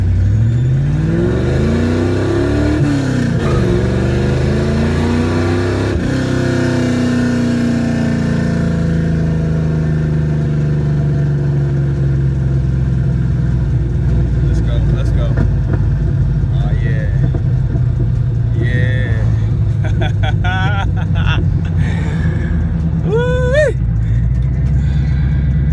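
A 1967 Plymouth Valiant engine running after idle mixture and fuel pressure tuning, starting with loud revs that rise and fall, then settling into a steady close idle rumble, with someone talking over it toward the end.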